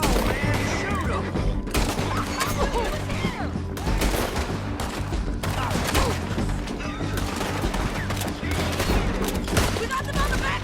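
Sustained gunfire in the video game Red Dead Redemption 2, a dense fusillade of overlapping shots and booms in a loud, continuous battle, with shouting voices mixed in.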